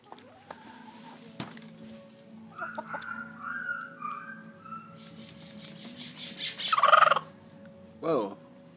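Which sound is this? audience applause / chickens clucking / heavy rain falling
chickens clucking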